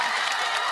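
A dense wash of crowd applause, steady and fairly loud throughout the brief moment, with many hands clapping at once.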